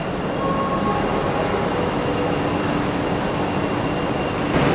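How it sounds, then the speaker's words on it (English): A Chinese high-speed bullet train on the Lijiang to Kunming line, heard as a steady, loud rail rumble and hiss with faint tonal whines, continuous throughout and swelling slightly at the end. "Take a look at this bullet train."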